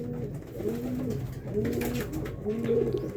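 Several pigeons coo close by in a loft, a repeated rolling, throaty coo pattern recurring every second or so against a quiet background.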